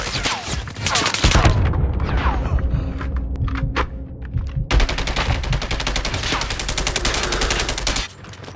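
Rapid automatic gunfire from Call of Duty Mobile rattles in dense bursts, with a loud stretch of sustained fire at the start, a rumbling lull dotted with single shots, then another long close-range volley before it cuts off.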